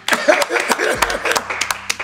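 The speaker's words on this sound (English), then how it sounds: "Let's give a round of applause for our model." Scattered, uneven clapping from a small audience for a model on a relationship discussion show, with light chuckles and talk mixed in.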